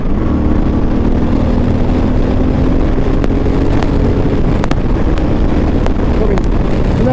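A Suzuki Boulevard C50 cruiser motorcycle rides at about 60 mph on the highway, with steady loud wind roar and engine drone throughout and a few faint ticks.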